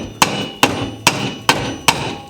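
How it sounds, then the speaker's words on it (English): Five sharp, evenly spaced knocks of a rubber mallet striking the cylinder of a Honda GXV530 engine, each hit ringing briefly before the next, close and loud. "to take a rubber mallet"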